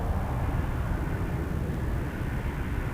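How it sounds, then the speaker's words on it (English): An Airbus A320 lining up for takeoff at Toronto Pearson gives off a steady, broad engine rumble and hiss that stays level and fairly distant throughout, with no voices. "Airbus A320."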